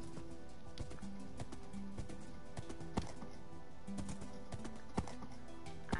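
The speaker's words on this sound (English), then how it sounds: "Oh, I see a horse." Horse hooves clip-clop in a Minecraft game, a sparse run of soft, fairly close taps under a steady game background hum, with no talking.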